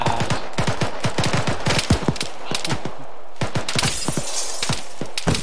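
In the Arma 3 video game, rapid bursts of loud gunfire mix with glass windows shattering and breaking, forming a dense, chaotic barrage with no speech.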